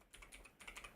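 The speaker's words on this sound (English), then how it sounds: "If I type Reloop" Rapid typing on a computer keyboard, a quick run of soft clicking keystrokes in two bursts with a brief pause between, close and fairly quiet with no talking.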